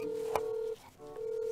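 A call being placed on a telephone: a steady electronic tone drones and briefly cuts out, then resumes, with a faint click over a hiss of background noise.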